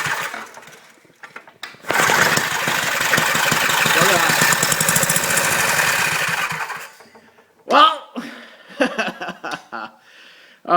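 A Powermate 3250 portable generator engine fires up after gas is added and runs loudly and steadily for about five seconds, then cuts out, followed by a few short knocking and clattering sounds.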